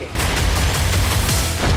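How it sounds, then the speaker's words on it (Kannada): Gunfire at the India-Pakistan border, a rapid burst of shots and booming reports running together over a dense, loud rumble, with no clear pauses. "ಇಂಡೋಪಾಕ್ ಗಡಿಯಲ್ಲಿ ಪದೇ ಪದೇ ಗುಂಡಿನ ಚಕಮಕಿ"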